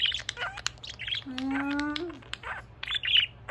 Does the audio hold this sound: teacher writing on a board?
no